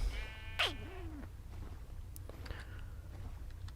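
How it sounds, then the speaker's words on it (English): A single sheep bleats in Minecraft, one wavering cry near the start over a low background hum, followed by faint game clicks. "we can just drop this sheep off over here by the cows"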